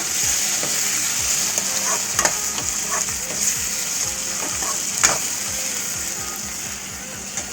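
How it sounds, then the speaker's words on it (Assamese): Elephant apple pieces being fried and stirred in a pan for dal, with a steady sizzle under repeated scraping strokes of a spoon throughout, close and moderately loud. "ভাজি লৈছোঁ ঔটেঙা।"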